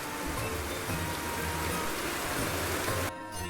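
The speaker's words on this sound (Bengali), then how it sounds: "দুপুরের পরে শুরু হয় অঝোরে বৃষ্টি।" Heavy rain pours steadily in a dense, continuous hiss that fills the whole clip, easing slightly near the end.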